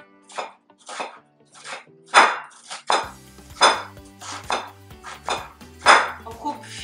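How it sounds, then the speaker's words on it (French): A knife finely chopping ginger on a cutting board, about a dozen crisp, evenly spaced knocks close up, with a light clinking of kitchen utensils in the background. "on coupe finement le gingembre"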